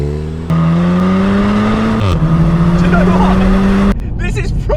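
Wrecked VW Golf R accelerating hard on its first drive, a loud steady engine note rising through the gears with a gearshift dip partway, heard from inside the car.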